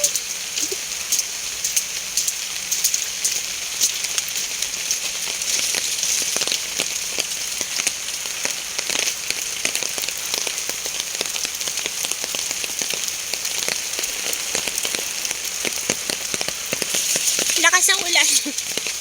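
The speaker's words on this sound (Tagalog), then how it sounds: "Lakas ng ulan." Heavy rain falls at MacRitchie Reservoir in Singapore, a dense, continuous hiss of drops pattering on wet ground and surfaces, steady throughout, with a brief splash or rustle near the end.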